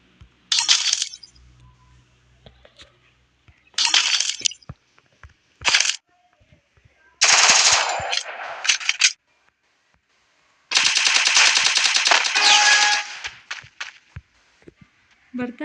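Bursts of rapid automatic gunfire from the battle royale game Free Fire, several loud rattling volleys of one to two seconds separated by quiet gaps with faint footsteps and clicks.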